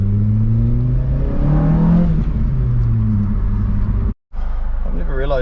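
Nissan SR20VE engine in a P11 car revving hard while driving, loud and sustained with rising and falling pitch sweeps, a short cut in the sound near the end, then revving resumes.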